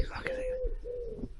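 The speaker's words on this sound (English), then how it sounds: "Can you see this cheeky pigeon here?" A pigeon coos softly and close by, two drawn-out low notes back to back amid faint background rustle.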